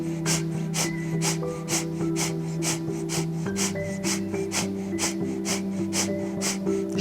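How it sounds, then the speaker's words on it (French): Breath of fire breathing exercise: rapid, rhythmic, forceful nasal exhalations in an even pulse of about two per second, close and steady over a sustained musical drone. "Respiration du feu, 30 secondes."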